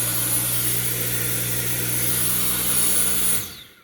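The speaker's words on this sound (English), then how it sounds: "Let's see if on max suction it works" Dyson V8 Absolute cordless vacuum cleaner on max suction, a loud steady high-pitched whine with a low hum, running evenly without pulsing before switching off sharply near the end.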